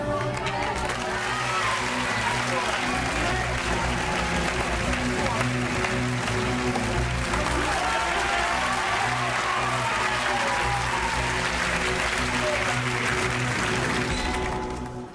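Studio audience applause on a TV game show, steady clapping for roughly fifteen seconds over sustained musical tones, tapering off at the very end.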